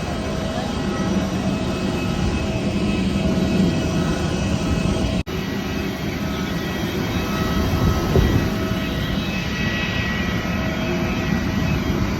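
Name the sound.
airplane jet engines during takeoff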